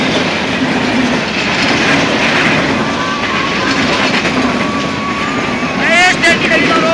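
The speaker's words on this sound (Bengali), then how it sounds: "শুটিং করতে করে ট্রেন আইছে গাইস" A train rumbles past close by with a loud, steady roar and clatter for the whole stretch, a horn-like whine rising near the end, while voices speak over it.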